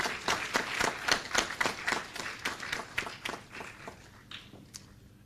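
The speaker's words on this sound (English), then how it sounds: "give yourself a big round of applause" A small group at a credit union annual general meeting claps together, quick sharp claps that taper off over a few seconds, fairly close, with no voices.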